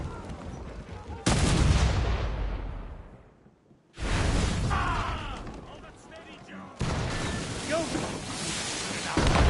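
Ship cannon broadsides in Assassin's Creed Rogue: loud, booming blasts arrive in three heavy bursts, each followed by a rumbling decay, with shouted orders from the crew between volleys.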